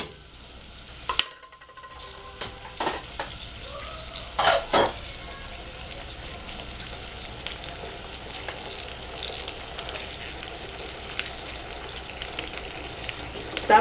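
Pineapple and catfish steaks sizzling in a pan for sweet-and-sour catfish, a soft steady fry with a few sharp clatters and knocks early on as pieces go in, close and fairly quiet.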